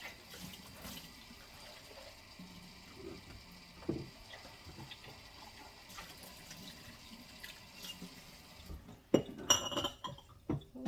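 Dishes being rinsed in a kitchen sink: running tap water with glass and crockery clinking softly, and a louder splash and clatter near the end, no talking.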